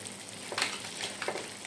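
Curry leaves drop into simmering chicken curry, giving a soft, brief sizzle with a couple of faint crackling bursts against a quiet background.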